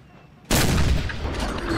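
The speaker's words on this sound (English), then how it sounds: "This is basically a duel of artillery." Artillery fire in the Napoleon Total War video game during a 3v3 battle: a sudden loud boom erupts after a quiet moment and rolls on into sustained rumbling gunfire.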